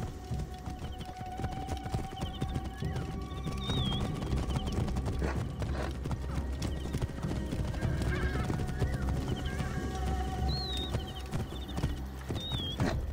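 Horses in the Assassin's Creed Origins video game gallop with steady rhythmic hoofbeats and repeatedly neigh and whinny, over a continuous game background of wind and music.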